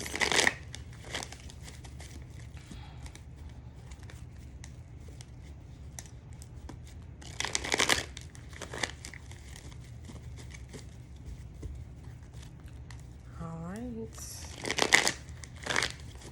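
Tarot cards are riffled and shuffled in a few short bursts of papery flutter, close up against a quiet room, with a brief spoken remark.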